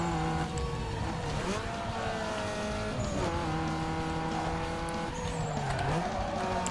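A stock Mercedes E-Class engine in the Need for Speed Underground 2 racing game drones and revs through gear changes while tires squeal and skid, with steady game audio and no voices.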